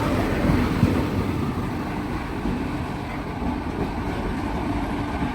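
Malda Town–Bangalore Amrit Bharat Express, a push-pull train with a locomotive at each end, rolls past as a steady, loud rumble and rattle of wagons that holds evenly throughout with no talk.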